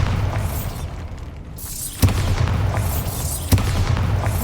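A Bombarda spell explodes in Hogwarts Legacy with two sharp booms a second or so apart, each followed by a crackling, debris-like wash over a low rumbling hum.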